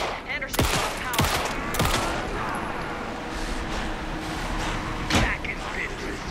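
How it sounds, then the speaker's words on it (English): Gunfire in Alan Wake 2 on a moonlit beach fight, a few sharp, loud shots spaced apart over a dense rumbling game soundscape, with characters speaking at times underneath. "Anderson, pin him down with gunfire."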